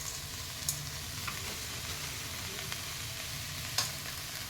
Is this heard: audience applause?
no